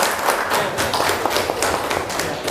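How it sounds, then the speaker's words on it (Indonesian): A classroom of students applauds a presenting group, a dense patter of many hands clapping at close range with a few louder claps standing out, lasting a couple of seconds. "tepuk tangan dulu untuk kelompok 2"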